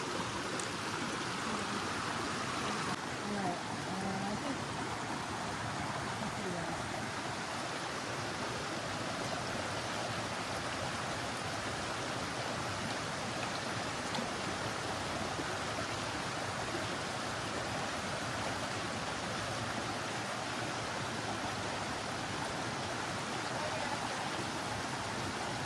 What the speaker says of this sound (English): so we have a water crossing here